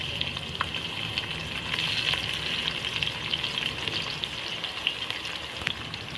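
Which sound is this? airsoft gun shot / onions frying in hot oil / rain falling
onions frying in hot oil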